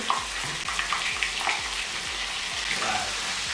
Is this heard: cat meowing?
no